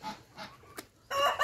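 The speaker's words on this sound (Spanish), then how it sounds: "Ahí andan los gallinas, están allá adentro" Hens in a chicken coop cluck in short, soft bursts, then one louder squawk close by, with quiet gaps in between.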